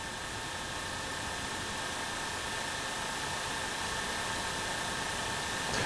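A smokeless chimney combustion fan running at 2,700 RPM gives a steady, faint, even whooshing hum with no change in pitch or level throughout.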